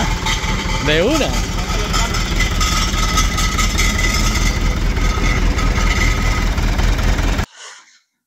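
A white Land Rover Defender engine idles with a heavy, steady, low-pitched rumble, close by, with a voice briefly heard over it before the sound cuts off abruptly.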